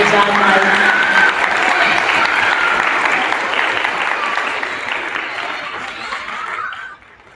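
An audience at a 5th grade awards assembly claps for character award winners, with laughter mixed in. The loud, sustained applause fades gradually and then stops abruptly.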